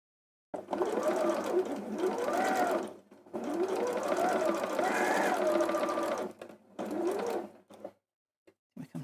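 Domestic sewing machine stitching fabric along a curve, a close, steady mechanical whir in three bursts separated by short pauses as the sewer slows and stops.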